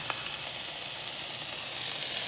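Chicken breasts fry in a pan with a constant, close, crackling sizzle and hiss that stays even from start to finish, with no voices over it.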